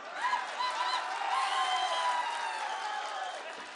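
A large crowd at a political rally for Edappadi Palaniswami sends up a sustained roar of cheers, whoops and shrill whistles, steady and fairly distant, with a voice speaking over it.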